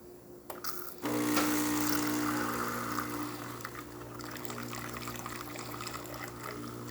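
A Gaggia espresso machine's hot water wand runs after a press of the button: a steady pump hum with a pouring, gushing stream of water that starts suddenly and continues unbroken close to the microphone.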